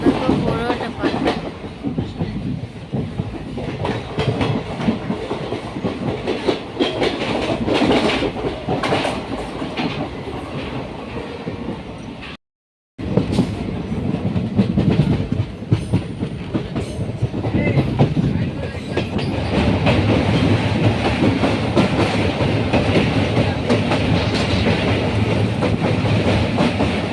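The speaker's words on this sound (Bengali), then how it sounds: "আর আমি ট্রেনের ভিতরে বসে বসে" Heard from inside a passenger train passing through hilly country by a river, the wheels give a continuous loud rumble and clatter on the rails, with one brief silent gap midway.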